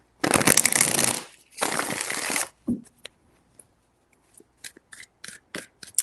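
Tarot cards are shuffled in two long, loud riffling bursts at close range, followed by softer scattered taps and card handling, with no talking.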